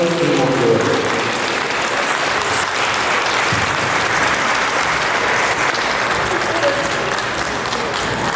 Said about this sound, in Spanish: Lo recibimos con fuertes notos de aplauso